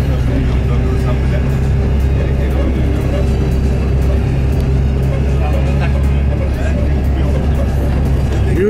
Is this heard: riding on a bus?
yes